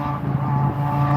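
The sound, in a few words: motorcycle passing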